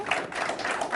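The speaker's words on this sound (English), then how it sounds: "Round of applause." A studio audience applauds at an awards show, giving a brief burst of dense, steady clapping at moderate loudness.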